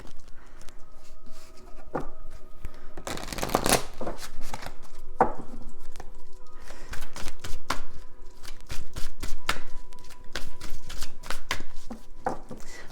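A deck of cards shuffled at close range over and over: bursts of riffling and crisp slaps in an uneven rhythm, with no talking.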